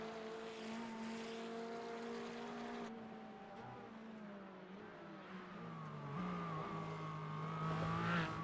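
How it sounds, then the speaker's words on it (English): Porsche race car in a racing game during a community MX-5 endurance event, engine tones rising and shifting steadily throughout, growing louder near the end with a droning, propeller-like buzz. "I can hear Fleming's Porsche there"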